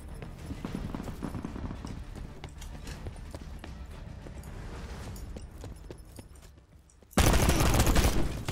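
Rapid gunfire rattles through a Black Ops 4 gun game match, a steady stream of dense shots with clattering effects that ends in a sudden louder burst near the end.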